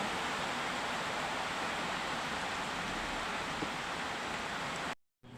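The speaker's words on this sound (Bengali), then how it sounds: "দেখেন কি দারুণ বৃষ্টি নামছে" Dense, steady rain pours down in an unbroken wash of hiss, ending in an abrupt cut.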